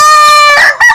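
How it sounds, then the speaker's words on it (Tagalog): A chicken calls very loudly and close, a single drawn-out harmonic cry ending in a short clucking break. "Isang manok"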